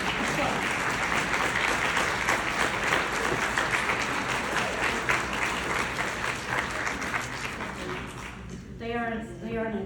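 An audience at a marketing and communications gathering claps for a standing team, a dense, steady wave of applause that carries on for several seconds before quickly dying away.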